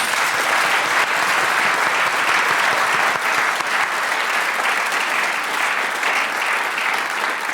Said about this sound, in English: A book voucher prize will be yours, as will this impossible to get wrong round of applause